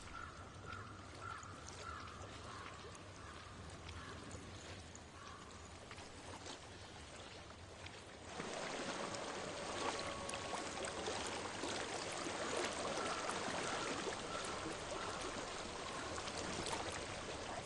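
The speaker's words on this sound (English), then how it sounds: "I hear water. Go to it." Water flows steadily in Hellblade: Senua's Sacrifice, a faint, continuous rushing that swells and grows louder partway through, as if coming closer, with no talk.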